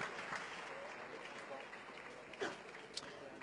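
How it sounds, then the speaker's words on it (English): Spectators at a table tennis match applaud in a short, fairly faint burst of clapping, with a commentator talking over it. "Certainly a lot of encouragement from his fans"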